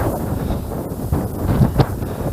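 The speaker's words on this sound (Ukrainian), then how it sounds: "Єдине, що з неприємного, ось цей дуже сильний вітер." A strong spring wind blows at an overgrown pond during a March fishing trip, roaring steadily and buffeting the microphone in loud, low gusts with no one speaking.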